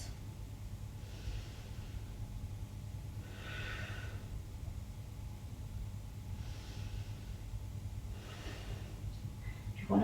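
Yoga breathing during an Ashtanga standing practice. Four slow, audible breaths, soft and fairly close, rise and fade at an even pace over a low steady room hum.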